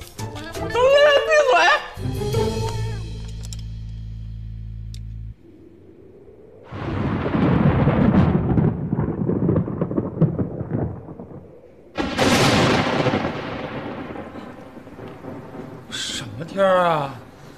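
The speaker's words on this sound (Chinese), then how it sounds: "只是打雷而已。" Thunder rumbles outside during an indoor meal: a long, loud, broad crash that swells and fades over several seconds. People talk before and after it.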